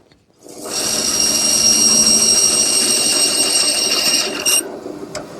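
A power saw cuts a kerf into a wooden tenon for a cherry wedge on a quilt rack in a woodworking shop. One loud, steady, rasping cut runs for about four seconds, then stops abruptly.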